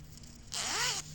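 A zipper on a crocheted macrame bag is pulled open in one quick, close, crisp zip lasting about half a second, set against quiet room tone.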